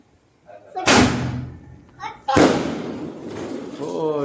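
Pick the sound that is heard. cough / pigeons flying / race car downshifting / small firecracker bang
small firecracker bang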